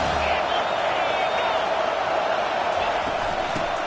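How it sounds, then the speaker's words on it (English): A football stadium crowd roars on third down as Miami's offense faces Washington's defense, a dense, steady wash of noise, loud and sustained, with a commentator talking over it. "Decibels rising as the crowd gets behind this defense on 3rd down"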